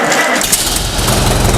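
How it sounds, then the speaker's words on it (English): A Farmall letter-series tractor engine with a freshly rebuilt and timed magneto cranks and catches, settling into a loud, close, steady rhythmic chugging run. "So let's start the tractor and hear it run."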